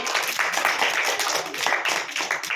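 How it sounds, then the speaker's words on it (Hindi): A group of children claps together in a school activity, a quick burst of scattered, lively hand claps close by, with voices mixed in. "वेरी गुड, ताली बजाओ।"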